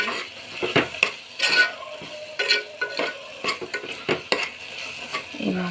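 Masala spices with ginger-garlic paste fry in a pan for drumstick curry, a soft sizzle under frequent stirring scrapes and light utensil clinks.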